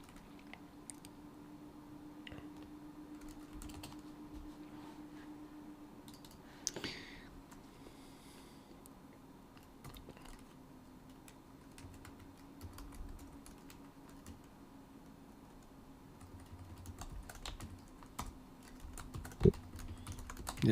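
Computer keyboard typing during a C++ programming session: irregular bursts of light key clicks run throughout with a steady background hum, plus a few louder isolated clacks near the end.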